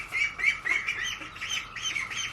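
Young ducklings being handled for introduction to a homestead flock give repeated high, raspy squawks, close and fairly faint, with soft rustling behind them.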